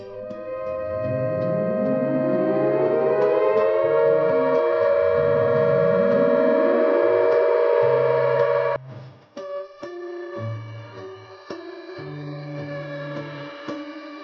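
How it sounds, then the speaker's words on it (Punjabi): A civil defense red alert air-raid siren wails loudly, its pitch rising and falling in long sweeps for several seconds, then cuts off, followed by quieter intermittent tones. "ਰੈੱਡ ਸਾਇਰਨ ਦੀ ਆਵਾਜ਼ ਇਸ ਤਰ੍ਹਾਂ ਹੋਵੇਗੀ"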